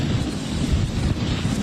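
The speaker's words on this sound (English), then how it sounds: "listen to these winds as they howl through here" Strong Santa Ana-style winds roar and buffet the microphone during a Los Angeles wildfire on Sunset near the Palisades, a steady loud rush with gusty low rumble and no voices.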